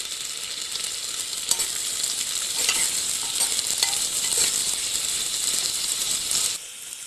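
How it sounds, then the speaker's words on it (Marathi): A large sliced onion sizzles and sputters in a hot pan, cooking for mutton vadas, with scraping and stirring sounds over a constant frying hiss. "हा मोठा कांदा घेतलाय मी एक उभा चिरून, तो आपल्याला व्यवस्थित परतायचा आहे."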